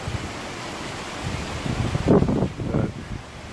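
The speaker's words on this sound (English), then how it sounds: "Every once in a while we'll get some really good gusts like this." Hurricane Irma's wind gusts outside a house, a rushing roar that swells loudly near the middle and then eases, with rustling and no voices.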